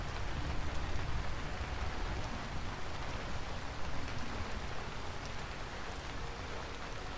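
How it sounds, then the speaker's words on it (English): Rain falls steadily in the video game Vintage Story, a dense, even hiss of drops on surfaces that holds constant throughout with no talk. "It's still fucking raining right now."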